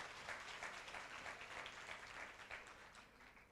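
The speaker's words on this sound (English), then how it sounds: "Delegates, please give a round of applause for your advisors" Audience applause fills a school Model UN opening ceremony hall, steady clapping from a crowd heard at a distance, fairly faint and even throughout with no voices over it.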